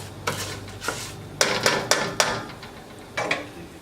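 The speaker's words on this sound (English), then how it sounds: "So you want to start stirring up your rice. You don't want to let it burn" Dry rice being stirred and toasted in a pan for Spanish rice: a string of sharp, close scraping clicks as a utensil drags and knocks against the pan, spaced irregularly with quieter gaps between.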